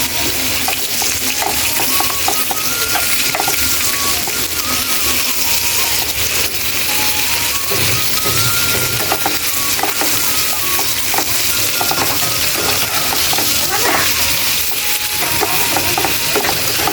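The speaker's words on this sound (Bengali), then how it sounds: "এখন চিংড়ি মাছগুলো ভেজে নিচ্ছি" Prawns fry in a pan of hot oil, a loud, continuous sizzle and crackle held steady close up, with occasional light taps.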